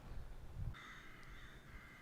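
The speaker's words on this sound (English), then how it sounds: "Is that what the crows mean?" Crows cawing in a snowy outdoor setting, one sustained harsh call holding steady for over a second against a low rumbling background, no talk.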